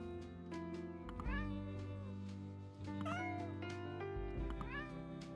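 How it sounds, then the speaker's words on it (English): A kitten in the video game Spirit Talk meows three times, rising high-pitched mews over a sustained musical background, each cry short and clear. "The meows are cute."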